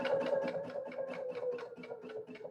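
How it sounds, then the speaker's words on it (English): A sewing machine runs a quick, even, rhythmic stitch, close and steady, while securing an appliqué with a back stitch. No voices. "So I always do a security stitch or a back stitch with my applique."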